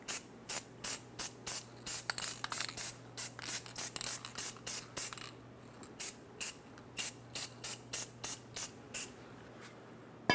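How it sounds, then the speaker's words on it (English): Anti-seize coating is sprayed onto the wheel hub of a 2003-2009 Dodge Ram 2500 in a long series of short, sharp aerosol bursts, rhythmic and close, with brief pauses between them. "Let's coat the hub in a thin layer of anti-seize to prevent this from rusting in the future"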